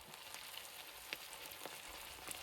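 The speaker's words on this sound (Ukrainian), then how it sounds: "Коли олія прогрілася, запускаємо карасів в олію і починаємо смажити" Crucian carp fry in heated vegetable oil over medium heat, a quiet steady sizzle with scattered faint pops and crackles.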